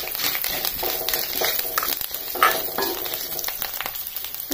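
Dried red chillies fry with parboiled rice in a hot pan, a busy crackling sizzle with scattered pops and occasional stirring scrapes throughout.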